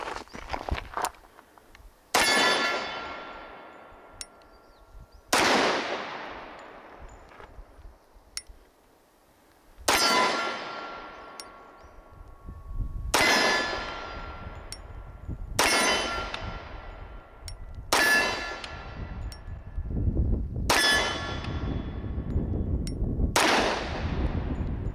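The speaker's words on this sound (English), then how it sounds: "Let's see what this looks like, single-handed fire." A Kimber Black Ice Rapide 10mm 1911 pistol fired one-handed outdoors, about eight sharp, loud single shots spaced a few seconds apart, each followed by a ringing decay.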